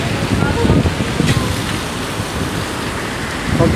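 A heavy rainstorm roars steadily close by, a dense, continuous wash of rain and gusting wind with no clear thunderclap, and faint voices murmur underneath.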